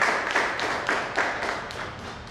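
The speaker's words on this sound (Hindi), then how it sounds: "एक बार जोरदार तालियां बजाइए" An audience at a Hindi poetry gathering, a kavi sammelan, claps in a rhythmic unison beat, roughly three claps a second, moderately faint and steady without talk.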